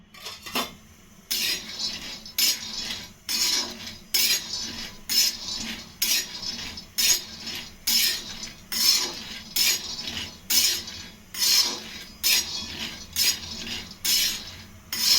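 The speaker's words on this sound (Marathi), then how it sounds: "लोखंडी तवावर मी ना शेंगदाणे खमंग असे भाजून घेणार आहे" A metal spatula scrapes and clinks against an iron griddle in steady repeated strokes, with a soft rattle of peanuts being stirred as they roast.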